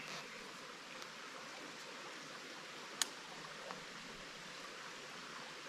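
A creek flows beside a truck campsite, a steady soft hiss of running water with an occasional faint click, continuous and fairly quiet with no voices.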